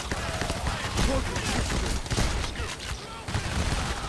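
Dense, sustained gunfire from many weapons in Payday 2 during a police assault, rapid bursts and shots layered over one another, with voices talking underneath throughout.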